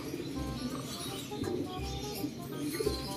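Racing pigeons cooing softly at their loft, low repeated coos and faint bird calls over a steady outdoor background hum, no speech.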